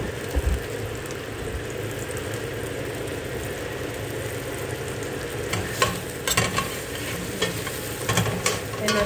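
Onion and garlic frying in oil for kaldereta, a continuous close sizzle with repeated stirring and spatula scrapes, growing busier with sharper clatters in the second half, with no voices.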